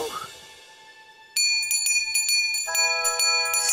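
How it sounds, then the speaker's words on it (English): A cartoon bell rings out loudly in a bright, sustained series of overlapping metallic strikes, following a brief stretch of quieter background sound in a children's animated bedtime story. "Bobo ring bell!"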